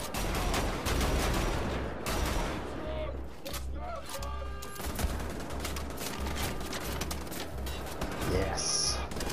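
Gunfire in the shooter game Wolfenstein: The Old Blood, repeated bursts of shots and sharp cracks scattered through the clip amid game sounds, with someone talking over much of it.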